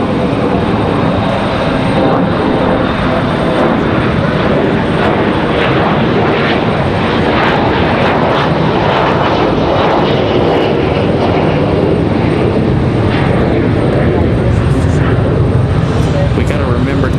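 An airliner taking off into a strong headwind at Raleigh-Durham, rotating early: a steady, loud broadband engine roar with a faint high whine that holds for the whole stretch while a voice talks over it.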